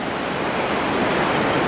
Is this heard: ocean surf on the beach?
yes